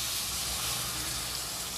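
Water poured into a pan of cooking chicken curry, producing a dense, steady hiss and sizzle, loud and close with no talk.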